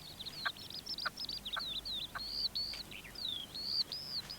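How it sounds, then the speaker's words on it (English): Red-legged partridges calling along the margins of farm fields, a rapid run of harsh, chattering notes repeated over several seconds at moderate distance against a quiet outdoor background. "like these red-legged partridges that scratch a living at the margins of the fields"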